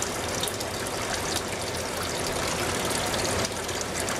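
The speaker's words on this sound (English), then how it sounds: "Now the recirculating pump is running and the float valve is letting water come out into the reservoir." A recirculating pump in a Dutch bucket hydroponic system hums steadily as make-up water runs through a float valve into the reservoir, a continuous close broadband rush of flowing water with no talk.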